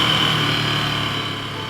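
Ducati Scrambler Desert Sled motorcycle engine on a ride along small sunny roads, a steady mid-pitched hum with wind noise, continuous and fairly loud without talk.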